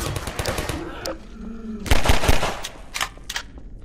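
In Half-Life 2, a mounted turret fires in short bursts of sharp, cracking shots that come through in clusters mid-way and near the end, while someone talks over and between them.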